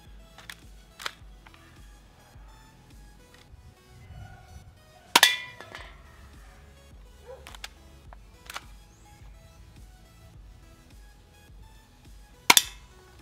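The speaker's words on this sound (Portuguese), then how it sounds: "eu vou tentar derrubar as latinhas atirando aqui, disparando com a nossa pistola" A toy airsoft-style pistol fires at aluminum cans, giving several sharp isolated cracks spaced seconds apart, with faint clinks and quiet handling noise between shots.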